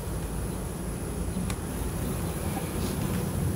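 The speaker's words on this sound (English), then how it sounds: "we have a lot of bees here" Honey bees hum around an open hive during summer post-harvest splitting and requeening, a constant low drone close to the listener with a faint steady high whine above it, no voices.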